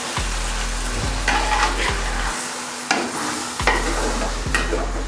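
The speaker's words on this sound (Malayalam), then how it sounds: "ഇത് നന്നായിട്ടൊന്ന് ഇളക്കുക." A mushroom biryani mixture with yogurt is stirred in a pan, sizzling steadily with repeated scraping strokes of the spoon at a fairly regular rhythm, close and clear with no talking.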